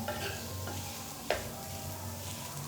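Potatoes frying in oil with chillies for a fasting-style batata vada, a steady soft sizzle with faint stirring scrapes and one sharp utensil clink partway through, no talking.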